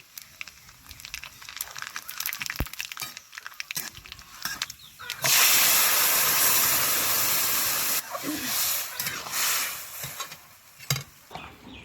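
Mustard seeds and dried red chillies fry in hot oil: scattered crackles and clinks, then a sudden loud hissing sizzle for a few seconds that eases into softer, uneven spitting.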